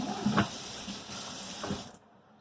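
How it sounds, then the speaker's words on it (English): Hot water gushes from a kitchen faucet into a sink with a steady hissing splash and a couple of soft knocks, then cuts off abruptly. "Turn the water on."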